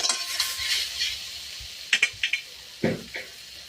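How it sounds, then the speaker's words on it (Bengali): A spoon scrapes and clinks in a pan of spiced rui fish curry, giving several sharp, close strokes over a faint sizzle. "ভালো করে নাড়াচাড়া করে নেব"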